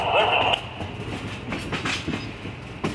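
A train on the Falls Road Railroad, a Day Out with Thomas excursion meeting the LB-1 in Medina, New York, rumbles past with a steady rolling roar, faint rhythmic wheel clatter and a brief high squeal near the start.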